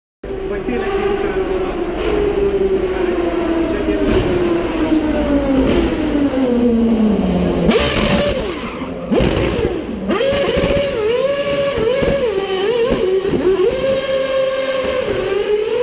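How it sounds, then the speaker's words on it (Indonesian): Formula One and Formula E race cars pass in turn, a loud engine whine that sweeps down in pitch and then shifts with surging revs and whooshes, heard close and sustained. "Mari bandingkan suara yang dihasilkan mobil Formula One"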